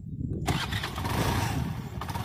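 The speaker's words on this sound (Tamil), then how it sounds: "சவுண்ட் கேட்குது, வண்டி ஸ்டார்ட் பண்ணுற சவுண்டு" A petrol-electric hybrid Activa scooter's engine catches with a sudden burst and settles into a steady, close, loud running rumble, with faint voices in the background.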